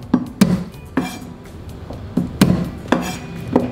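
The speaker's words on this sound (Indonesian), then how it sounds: "Bawang putihnya dikeprek" Several sharp knife whacks on garlic cloves against a cutting board, irregular thuds with short pauses, close and fairly loud with no voices.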